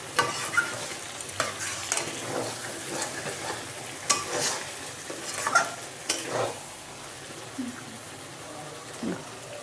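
Goat meat is stirred and sautéed in a wok, with repeated scraping strokes of a spatula over a soft, steady sizzle, close up and fairly quiet, with no voices.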